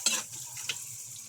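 Butter browning in a pan before onion and garlic go in, a steady close sizzle with faint stirring scrapes and a couple of brief utensil clicks, no talk.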